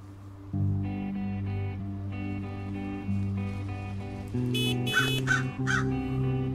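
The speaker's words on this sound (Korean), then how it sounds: "아 이놈의 까마귀" Crow cawing in the video game Hello Neighbor, several harsh caws near the end over a loud, steady droning background of game music.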